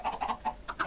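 Chickens in the Minecraft video game cluck in a quick run of five or six short, soft calls within under a second, with no talking.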